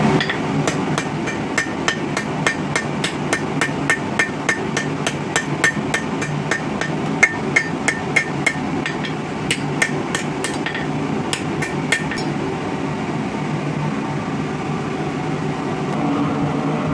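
A hammer forging a steel backscratcher taper on an anvil, with sharp metallic blows in a steady, fast rhythm for about twelve seconds before the striking stops, close and loud.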